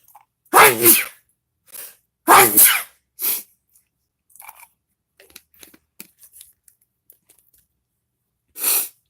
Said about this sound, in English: I sneeze and they run like the sky is falling